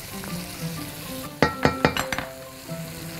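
Chicken with onion, ginger and garlic frying in a pan, a soft steady sizzle joined by a quick run of sharp utensil scrapes and clinks against the pan as it is stirred.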